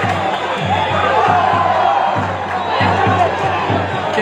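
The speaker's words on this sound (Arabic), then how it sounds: "الجماهير حاضره فرحانه، الكل كيشجع، الكل فرحان" Chabab Mohammedia supporters fill a Moroccan football stadium with a loud, continuous roar of cheering and chanting during a match against Moghreb Tetouan, with a steady thumping drum beat pulsing underneath the dense crowd noise.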